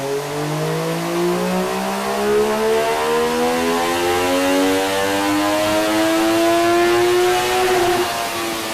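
An MV Agusta F3 three-cylinder motorcycle engine revs steadily upward on a dyno, its loud, continuous whine climbing in pitch over about nine seconds without a break.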